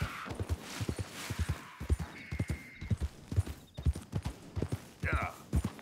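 Horse hooves clip-clopping in Red Dead Redemption 2, a steady, fairly close walking rhythm of distinct hoof strikes with a brief whinny near the end, while a person talks intermittently over it.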